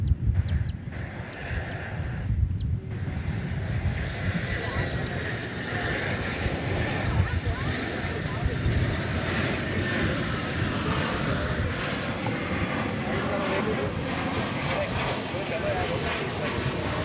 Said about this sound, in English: It's an Airbus A319.